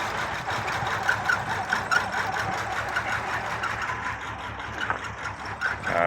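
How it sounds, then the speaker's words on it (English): A Nissan VQ35 V6 idles from a cold start on only three cylinders, one bank dead, giving a rough, uneven, lumpy running note with irregular misfire stumbles, close and continuous. "So that's now running on 3 cylinders on bank 2."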